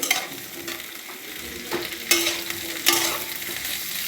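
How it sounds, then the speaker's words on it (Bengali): Vegetable dal stirred in a frying pan, with a spatula scraping and clanking against the pan over a continuous sizzle, a few louder strokes standing out, close up with no talking. "ভালো করে নাড়াচাড়া করে"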